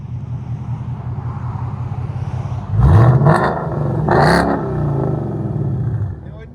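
A Ford Mustang GT with a 5.0L V8, custom H-pipe and Flowmaster Outlaw exhaust idles with a low rumble, then blips through two sharp revs up close while people talk around it.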